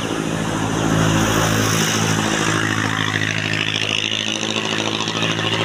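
Motorcycles and other vehicles passing on a busy street, a loud continuous engine drone that swells as one rides close by, with rattling and revving mixed into the traffic noise.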